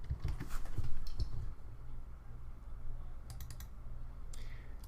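A computer keyboard is typed on to name a folder on an SD card while setting up an Anycubic Mega 3D printer, with a few quick clusters of close, light key clicks over a low steady hum.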